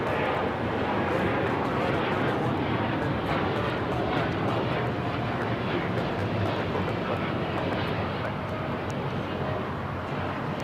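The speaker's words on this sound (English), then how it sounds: "This is American Airlines Flight 27 taking off to Tokyo, Haneda on the 787-8 Dreamliner." An American Airlines Boeing 787-8 Dreamliner takes off from LAX for Tokyo Haneda, its jet engines a dense, steady roar throughout, with voices talking over it.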